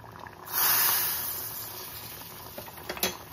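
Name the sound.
tempering (talimpu) poured into tomato dal, sizzling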